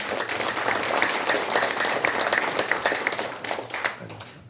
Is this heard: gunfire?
no